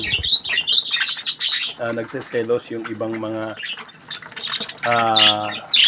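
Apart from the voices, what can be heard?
parakeets chirping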